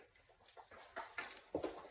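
A dog lets out a few faint, short whimpering whines, spaced out over about two seconds in an otherwise quiet indoor room.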